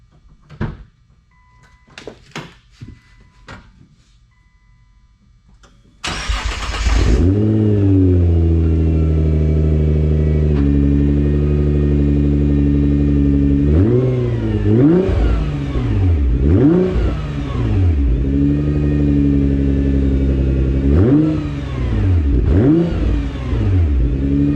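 A warm car engine fitted with an HKS muffler, HKS resonated mid pipe and ETS 3-inch downpipes starts after a few faint clicks and knocks, then idles loudly and revs repeatedly in rising and falling sweeps.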